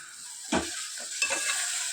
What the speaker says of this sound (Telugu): ఈ పుదీనా కొత్తిమీర కూడా తాలింపులో బాగా మగ్గేంత వరకు ఉడికించుకోవాలి చూడండి ఈ విధంగా కలుపుతూ